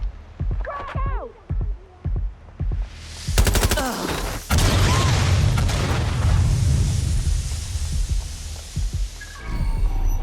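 Gunfire and a grenade blast in Watch Dogs Legion: a sharp volley of shots, then a heavy booming explosion with a long rumbling tail, while voices call out around the combat.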